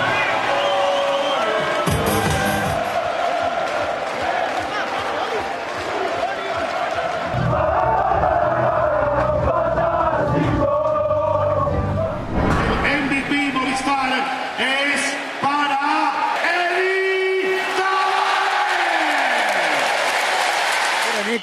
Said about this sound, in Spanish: aquí era la ovación del Wizzing Center